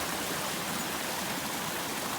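A small waterfall on a river along a hiking trail, a steady broadband rush of falling water that fills the whole clip at moderate level, with no voices over it.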